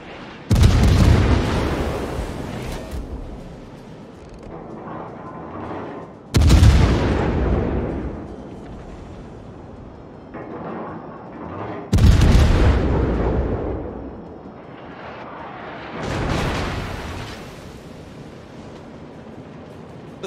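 Naval guns firing in World of Warships, with three heavy booming salvos spaced several seconds apart. Each one rolls off into a rumbling decay, and softer explosions and battle noise fill the gaps between them.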